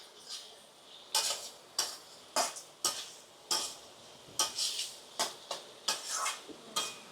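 A spoon scrapes and clinks against a pan while topse fish curry masala is stirred and sautéed, sharp metallic strokes coming in an irregular rhythm of about a dozen hits over a soft background sizzle, close and without talk.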